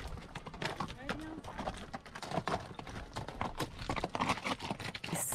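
Working horses' hooves clop steadily on a mountain trail, a busy, irregular patter of hoofbeats mixed with voices and outdoor noise.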